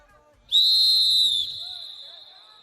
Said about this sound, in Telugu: Okay, ready for long whistle.